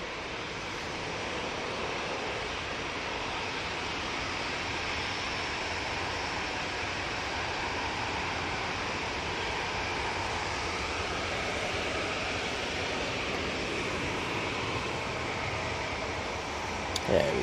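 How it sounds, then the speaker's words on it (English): A TUI Boeing 737-800 airliner takes off at Manchester Airport, its jet engines producing a broad, continuous roar that stays loud and steady throughout before a brief closer noise at the end. "Beautiful TUI 737-800."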